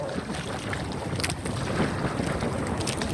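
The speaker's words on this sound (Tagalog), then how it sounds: "Sobrang lakas ng hangin." Strong wind buffets the microphone at sea from a small boat out in shallow water, a dense, continuous roar with gusty swells and no voices.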